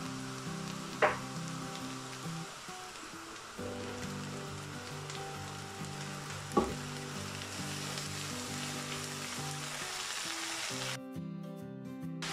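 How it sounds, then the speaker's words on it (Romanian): Sour cabbage with sautéed onion frying in a pan, a continuous moderate sizzle with two sharp utensil knocks, close and without speech, ending in a brief musical passage. "ceapa s-a călit, voi adăuga acum și varza"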